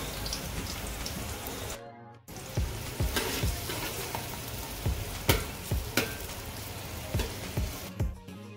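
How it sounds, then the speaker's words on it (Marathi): Onions for mutton yakhni pulao fry in a pan, giving a dense, constant crackling sizzle much like rain. Periodic stirring knocks sound throughout, briefly cut by a short silent gap, close and with no talk. "आता यामध्ये आपल्याला 2 कांदे घालायचे आहेत, ब्राऊन करून घ्यायचे आहेत आपल्याला."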